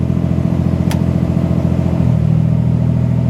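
Mercedes SL600 engine held at steady revs during a transmission test, a loud continuous mid-pitched drone with a single sharp click near one second and a slight drop in pitch as a gear change lands toward the end.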